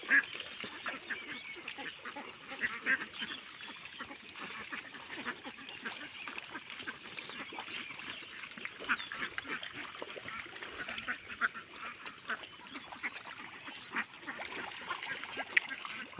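Ducks on a confined duck farm quacking steadily, a dense flock heard at moderate distance with continuous overlapping calls.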